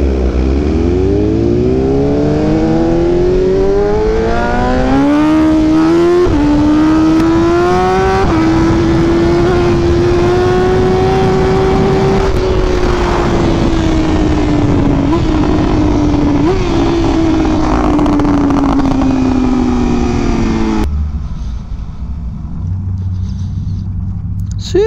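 A BMW M1000RR motorcycle running on E85 fuel accelerates hard through rising gears, its loud engine note climbing steadily with brief shift dips, close and continuous with wind roar for about twenty seconds before cutting off abruptly.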